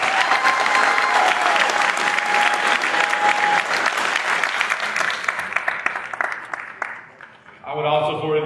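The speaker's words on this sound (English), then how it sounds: "Let's give Omari a round of applause." A room claps for Omari Evans at a high school signing day, steady loud applause lasting several seconds before tapering off, with a voice speaking briefly at the end.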